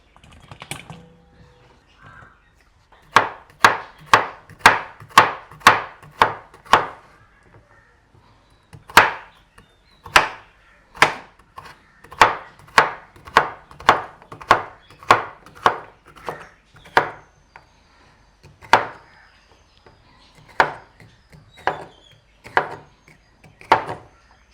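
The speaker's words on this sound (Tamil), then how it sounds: "நான் மற்ற பாவக்காயும் அதே மாதிரி வட்டி எடுப்போம்" Sharp, regular knife chops through bitter gourd into rings on a board, a quick run of evenly spaced cuts with short pauses between bursts, close and clear with no talking.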